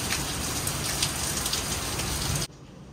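Heavy pouring rain during a storm, a dense steady hiss of downpour drumming on surfaces that fills the clip loudly before cutting off abruptly near the end.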